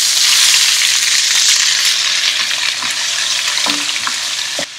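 Shredded onions sizzle loudly in hot oil with popped cumin seeds, a steady close hiss broken by a few light stirring scrapes and a clunk near the end.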